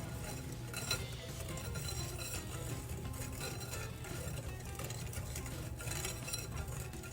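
Dry cornbread-dressing ingredients (flour, baking powder and kosher salt) whisked together in a bowl, giving a steady scraping rustle with light metallic clinks against the bowl, close and continuous with no talking.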